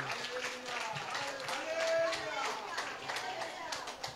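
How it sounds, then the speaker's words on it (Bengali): A Sunday worship congregation claps loudly in quick, repeated rhythmic beats, a dense, somewhat distant patter of many hands with voices mixed in. "জোরে হাততালি।"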